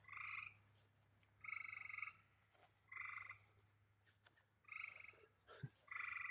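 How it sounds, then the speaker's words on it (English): Tree frogs croak at night in a dahlia garden, loud repeated trilling calls in regular bursts about every second and a half, with faint background hum and no talk. "You can hear the frogs out here with me"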